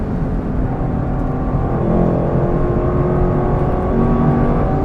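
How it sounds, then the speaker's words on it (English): The V8 engine of a 2024 Lexus LC 500 convertible roars loud and close, holding a strong, sustained, high-revving note with a slight rise and fall and no talk over it. "the V8 that revs its balls off"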